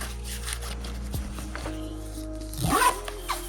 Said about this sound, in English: The zippers on it are very smooth, so in a situation you can get that guy open real quick